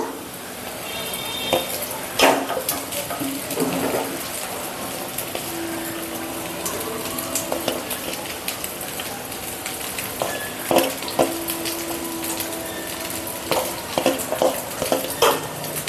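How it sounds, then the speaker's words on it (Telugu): Rice tipped into a spiced tempering in a pan and stirred, a continuous sizzle with scraping, clinks and knocks of a spoon against metal, close and fairly loud. "ఇప్పుడైతే రైస్ వేసేస్తున్నాను"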